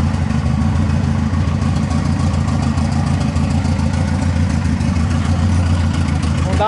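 A Volkswagen Gol car engine idling up close, a steady loud low rumble that holds an even pitch for the whole stretch with no revving.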